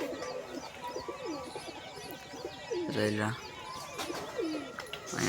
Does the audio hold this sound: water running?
no